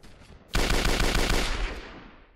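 Gunfire in a video game: a sudden loud burst of rapid automatic shots rattles on continuously after a quieter start, then slowly fades.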